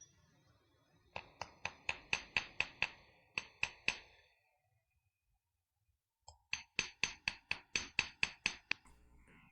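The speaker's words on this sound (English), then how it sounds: "using the anvil to flatten this out" A hammer strikes a piece of 16-gauge mild steel flat on an anvil in two bursts of about a dozen sharp ringing blows each, separated by a short silent pause, close and loud.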